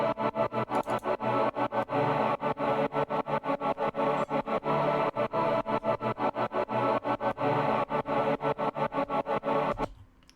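An electronic music drop pulses with a rapid rhythmic gating pattern, and a choir layer sits within the dense, steady mix before it cuts off at the end.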